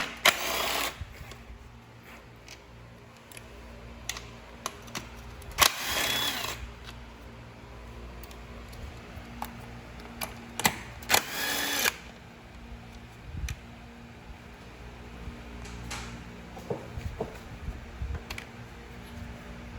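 Wrench removing 10mm bolts on a Fiat 500 Abarth during an atmospheric valve install, heard as rapid ratcheting bursts and metallic clicks between quieter pauses, close up under a low hum.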